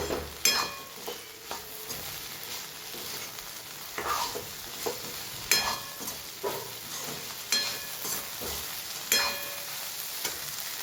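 Spiced vegetables for an upvas puri sabzi sizzle in a pan with coriander-cumin powder, Kashmiri chilli, hot chilli and turmeric, a steady frying hiss broken by repeated spoon scrapes and clanks as the mixture is stirred.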